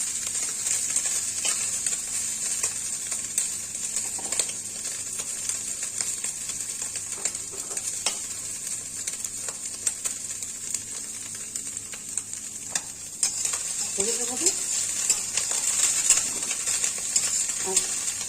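Small tangra and mourala fish fry in a hot wok over a high gas flame. A constant sizzle runs under scattered clicks and scrapes from stirring, and there is a louder burst of crackling near the end.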